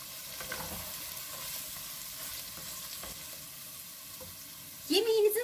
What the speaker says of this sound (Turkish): 1 yemek kaşığı da domates salçası ekliyorum. Salçayı güzelce kavuruyorum.